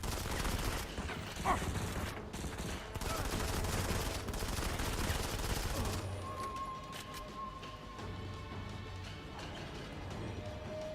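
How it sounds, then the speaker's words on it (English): Rapid automatic weapon fire in the Modern Combat 5 mobile shooter, dense bursts of gunfire and impacts filling the first six seconds, then thinning to quieter clatter with game tones. "I really like these weapons. They shoot really fast."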